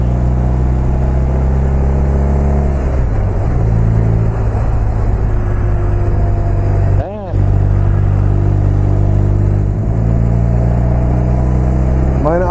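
A BMW 1200 RT motorcycle climbs uphill on an Alpine road in Switzerland, its engine a loud, steady drone that shifts pitch around a gear change and briefly drops out before resuming.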